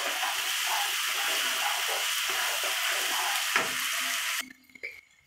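Spice masala sizzles and fries in a pan for hilsa pulao, a steady close hiss with occasional stirring scrapes that cuts off abruptly near the end, leaving near quiet.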